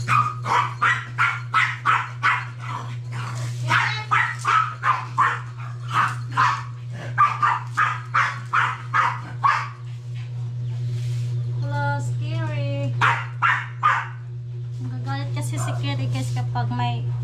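A dog barks in repeated bursts at another dog during a laundry day at home, with whimpering yips and a steady low hum underneath; a few other animal-like calls join near the end.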